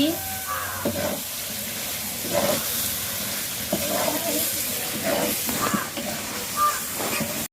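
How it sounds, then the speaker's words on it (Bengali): Fried chicken and potato pieces are stirred in a hot pan, giving a steady sizzling hiss broken by repeated scraping strokes of a spatula, heard close up throughout. "ভালো করে নাড়াচাড়া করে নিচ্ছি"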